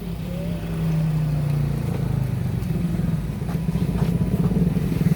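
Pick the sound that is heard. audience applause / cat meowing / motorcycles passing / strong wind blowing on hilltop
motorcycles passing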